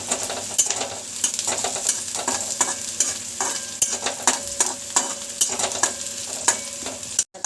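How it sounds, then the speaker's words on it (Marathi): Onion with cumin and mustard seeds fries in hot oil, a close, busy sizzle broken by frequent crackling pops and spatters, with no voice, ending in a brief dropout. "ते तेलामध्ये भाजून घ्यायचं"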